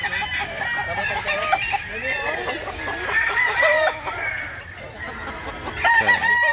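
Several young stag roosters, quality gamefowl in Mantalungon, Barili, crow and cluck repeatedly at close range, with overlapping calls throughout and louder crows near the end.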